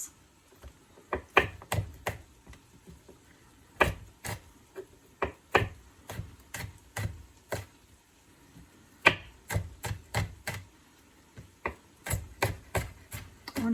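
Garlic cloves minced with a knife on a cutting board, sharp rhythmic chops in quick bursts separated by short pauses, close and clear with no talking.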